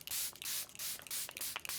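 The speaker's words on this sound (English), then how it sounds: "Then I'm gonna set the face with some setting spray." Charlotte Tilbury setting spray is misted onto a face in several quick hissing bursts, close and fairly loud, with brief gaps between pumps.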